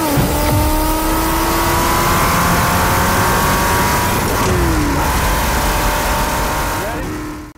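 A Ford GT40 MK2 race car, built for the 24 Hours of Le Mans and shown at Rétromobile 2024, roars loud and close with a sustained engine drone and shifting revs that ends abruptly.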